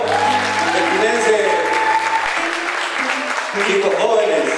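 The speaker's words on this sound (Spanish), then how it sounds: "Muchas gracias por el aplauso." Audience applause at a Campero TV broadcast, a steady wash of clapping that runs through the whole clip with a voice and sustained tonal music underneath.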